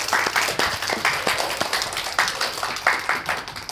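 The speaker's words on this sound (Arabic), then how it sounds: "تفضلي نهى، تصفيق تصفيق على نهى، تفضلي بنتي" An audience claps for a girl stepping up, giving a short round of applause with uneven bursts.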